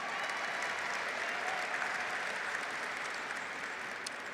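Steady audience applause fills a hall at a San Francisco Lunar New Year celebration for the Year of the Snake, dense and even throughout, with no clear voices over it.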